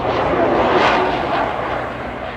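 Small, diminutive biplane flying at the Blackpool Airshow, a steady broadband engine drone that swells slightly near the middle and eases off, with faint voices beneath.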